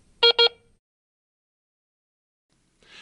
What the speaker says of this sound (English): press and hold the power touchpad for about 5 seconds or until you hear 2